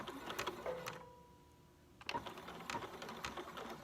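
A sewing machine stitches an N95 mask in bursts of rapid mechanical clatter, pausing for about a second in the middle before running again, fairly quiet and close with no talking.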